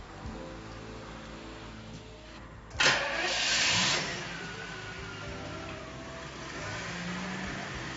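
A car engine starts abruptly with a loud burst of cranking, then settles into a steady running hum that continues to the end.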